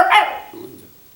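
A man in a church sermon imitates a dog's bark with his voice, one short loud yelp that fades quickly.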